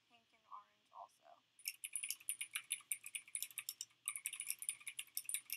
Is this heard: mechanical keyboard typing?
yes